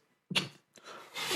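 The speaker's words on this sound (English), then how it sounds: "I burped." A person burps: a short, quiet vocal burst near the mic, followed by a breathy trailing noise, in an otherwise quiet room.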